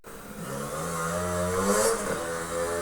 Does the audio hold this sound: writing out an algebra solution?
no